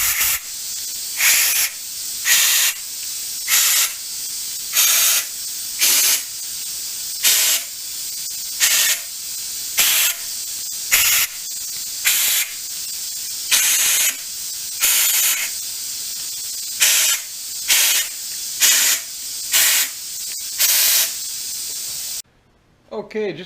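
Repeated bursts of compressed air blow out threaded bolt holes in a 440 engine block, about seventeen sharp hissing blasts in a steady rhythm, each roughly half a second long, loud and close, with brief pauses between.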